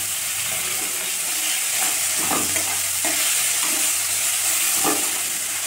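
Chopped onion frying with dried red chilli and bay leaf in hot oil, a loud continuous sizzle with occasional stirring scrapes, close up, no talking.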